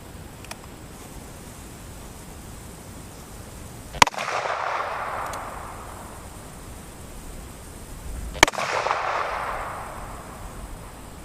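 Two loud, sharp shots from a Ruger Super Blackhawk .44 Magnum revolver with a 10.5-inch barrel firing 240-grain cast hand loads, about four seconds apart, each with a short echoing tail outdoors.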